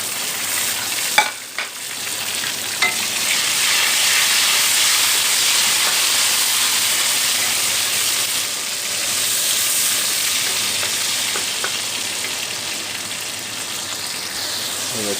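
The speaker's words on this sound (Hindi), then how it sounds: "अब इसमें हम डालेंगे मछली डाल देंगे" Fish fries in a pan with tomatoes and green chillies, giving a loud, steady sizzle and hiss close by, broken early on by a few brief clatters.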